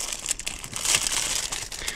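Crinkly plastic wrapping torn and crumpled off a Japanese Nintendo 64 game box, a close, continuous rustling and crackling with a louder tearing burst in the middle.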